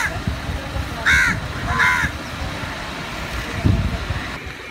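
Crows cawing on a beach in Kerala, India, two loud harsh caws close by over a busy background of traffic noise and chatter, followed by a thump.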